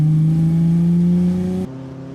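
A Z sports car's engine drones steadily from inside the cabin while driving, a loud, even hum that drops slightly in pitch and level near the end.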